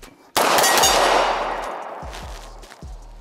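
A Glock 34 pistol fires a fast string of shots on the draw: one sharp, loud crack opens a long ringing decay, followed by several quicker reports and metallic clangs, with no talking.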